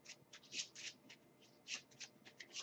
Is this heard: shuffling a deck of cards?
yes